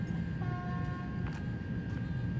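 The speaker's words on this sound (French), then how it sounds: "Le son du klaxon est fou en plus." Steady two-tone TGV horn from the Train Sim World 2 game sounds for about a second over a constant low rumble of the train, fairly loud against the background.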